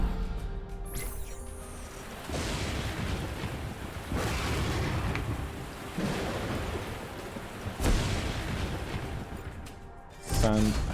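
Crackling thunderstorm and lightning effects from the tactical video game Into the Breach, a steady rain-like hiss with sharper bursts and a loud crack near the end, played under a voice.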